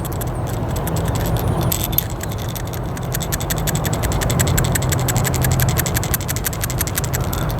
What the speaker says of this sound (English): Here's the rattle of the Toyota.